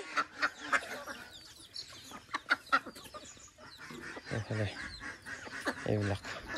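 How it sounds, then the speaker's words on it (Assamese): Local chickens of mixed sizes on a small farm, with a couple of ducks among them, give repeated short clucks and calls in bursts, fairly close, with voices talking over them. "আমাৰ লোকেল মুৰ্গী ফাৰ্মত বৰ্তমান কিমান লোকেল মুৰ্গী আছে"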